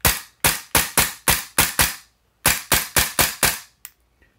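A Tokyo Marui G17 airsoft pistol fitted with a Volante BBU, aluminum slide and barrel, and Firefly recoil kit cycles shots: two close, loud strings of about six and five sharp cracks in quick rhythm, with no talking.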